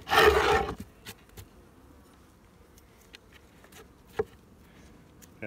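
Wax buildup scraped off a beehive's inner cover: one loud, rough rasp lasting under a second, then quiet with a few faint ticks and a single sharp knock.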